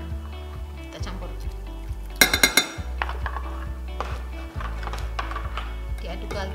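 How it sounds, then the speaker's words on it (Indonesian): A spoon stirs cornstarch and water in a bowl while making homemade ice cream, giving a run of quick clinks and scrapes against the bowl over a steady mechanical hum, with a voice speaking at moments. "ini maizenanya kita aduk dulu pakai air."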